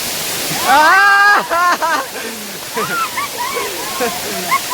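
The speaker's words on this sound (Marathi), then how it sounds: "पाण्याच्या आवाजामुळे माझा आवाज तुम्हाला कमी येऊ शकतो" Steady rushing water roars at Shahapada dam, a constant broad wash with voices talking loudly over it throughout.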